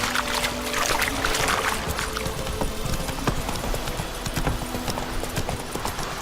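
Hooves pound steadily as a horse gallops in The Witcher 3: Wild Hunt, a continuous loud rhythmic clatter mixed with game ambience and music throughout.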